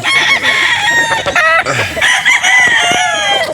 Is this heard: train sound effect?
no